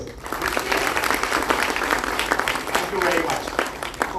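An audience at a Kargil Vijay Diwas event in Jammu applauds steadily, a dense wash of claps filling the room while a voice carries over the top.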